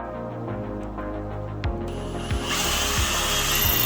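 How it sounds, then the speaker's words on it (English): A power drill runs steadily, boring pilot holes into wooden posts for DIY outdoor lanterns, a continuous close-up mechanical whir with a few brief bumps and a rise in intensity near the end. "I didn't even think to pre-drill the posts"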